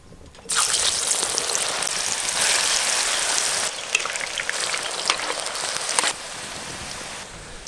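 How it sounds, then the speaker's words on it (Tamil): Jackfruit pieces drop into hot groundnut oil and fry with a loud, dense hiss and crackle that starts abruptly and holds steady, easing slightly partway through, with no talking. "இந்த பலாப்பழத்தை கொஞ்சம் கொஞ்சமா போட்டு பொரிச்சு எடுத்துக்கலாம்"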